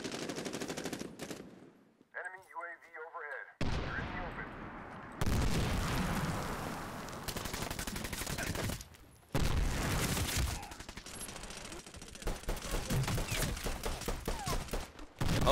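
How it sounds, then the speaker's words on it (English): Gunfire and explosions in the Medal of Honor: Warfighter multiplayer game, loud bursts of automatic fire and booms with abrupt cuts and a brief synthetic tone, dense and near throughout. "I got hit in the face by a tube. An M79 grenade launcher."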